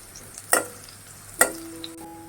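Garlic fries in oil in a kadhai over medium-low heat while a spoon stirs it. Two sharp metallic scrapes stand out above a faint, steady sizzle, with no voices.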